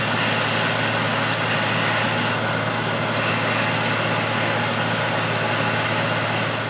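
A power sander runs continuously on a wooden kitchen scoop with a loud, steady, hissing whine and a low hum underneath, up close and uninterrupted, with no talking.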